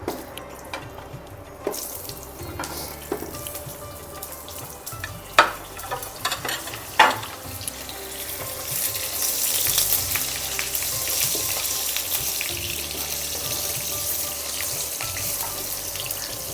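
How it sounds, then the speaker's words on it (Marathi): Whole onion frying in hot oil for chicken drumsticks, a steady sizzle that swells midway, with a couple of sharp clinks from the pan and no speech. "आता आपण घेऊया हा जो अख्खा कांदा आपण ठेवला आहे तो फ्राय करायला"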